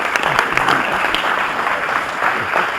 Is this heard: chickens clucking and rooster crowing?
no